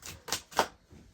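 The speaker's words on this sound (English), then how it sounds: "I don't know why I'm shuffling cards." Tarot cards being shuffled by hand, heard as three quick, close papery riffling bursts in a row with no talking.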